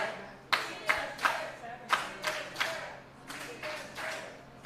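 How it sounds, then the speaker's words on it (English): A wrestling crowd at an 880 Wrestling Lethal Lottery Tournament night claps in scattered bursts to rally behind the champion, sharp uneven claps rising and falling over a low murmuring hall. "a crowd that's been relatively split throughout the course of this one is now maybe trying to rally behind the champion"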